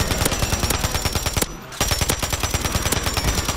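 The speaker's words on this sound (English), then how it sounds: "There's some shots to our left." Rapid automatic gunfire in Call of Duty Warzone, a dense rattling stream of shots that breaks off briefly in the middle, then resumes, loud and near.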